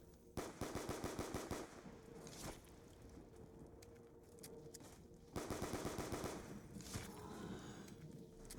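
Rapid automatic gunfire from shooting zombies in Black Ops 2 zombies comes in two sustained bursts of close, hard repeated shots, separated by a quieter stretch of clatter and game noise.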